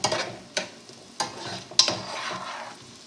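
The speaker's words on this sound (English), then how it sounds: "And we're going to just let these saute until they start to turn color." Baby bella mushrooms, about 8 ounces, sautéing in a pan: a steady close sizzle broken by four sharp stirring scrapes, with no voices.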